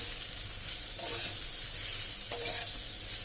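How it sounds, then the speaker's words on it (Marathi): Dal frying in a pan while being stirred, a constant close sizzle broken by two brief scraping stirs, with no one speaking. "आता ही डाळ आपल्याला साधारण वीस ते पंचवीस मिनटं छान हलवत राहायची आहे"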